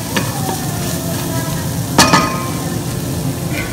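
Ground mutton stir-fried with vegetables in a pan, a steady close sizzle with stirring scrapes and one sharp clink of a utensil against the pan midway.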